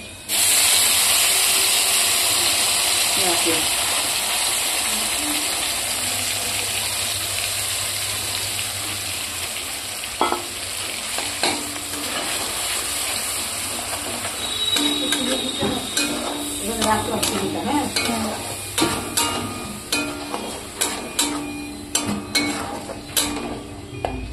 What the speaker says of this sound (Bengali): এবারে পেঁয়াজের পেস্টটা দিয়ে দেবেন।